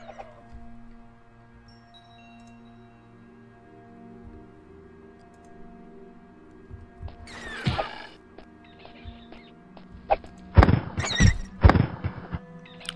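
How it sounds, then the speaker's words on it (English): An imp and a bat fighting in the Daggerfall Unity video game: quiet ambient drone at first, then a burst of thumps, squeals and screeches in the second half, sharp and scattered, with no talking. "I can hear the imp and the bat in here fighting each other"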